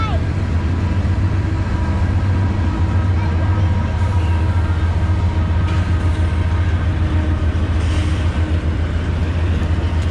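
A loud train rumbles past nearby at Sandusky Bay on Lake Erie with a steady low roar and metallic rattle, while people fishing talk over it.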